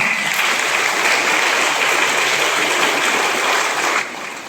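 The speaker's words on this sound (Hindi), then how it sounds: "ताली बजा दीजिए।" An audience at a Saint Monica feast day celebration applauds, steady dense clapping that carries for several seconds and then drops off abruptly near the end.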